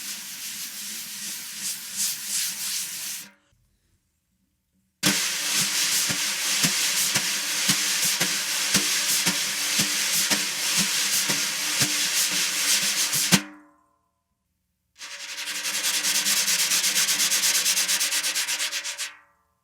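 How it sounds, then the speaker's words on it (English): Wire brushes swept in circles across a new snare drum head held at tension, close-miked, giving a steady papery swish in three long passes with faint pulsing strokes and short silent gaps between them. "A lot of this is about just the tactile sensation of pushing brushes around on the snare."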